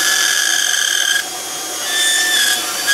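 High-pitched whine of a dental handpiece trimming excess acrylic from a temporary bridge before a reline, a steady near tone that dips briefly midway and then rises again, with no talk.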